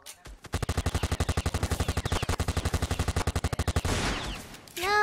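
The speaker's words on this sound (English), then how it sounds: "This guy got a machine gun." Machine gun fire in the Roblox Fortnite Simulator game, a loud rapid burst of around forty evenly spaced shots lasting several seconds, then trailing off into a short whoosh.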